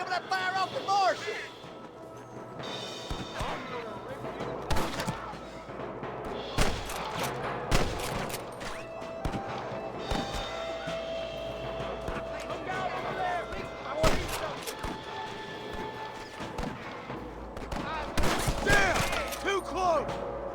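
Gunfire in the Red Dead Redemption video game, repeated sharp shots and thuds in an irregular battle rhythm, loud and close, under shouted character dialogue and a steady game soundscape.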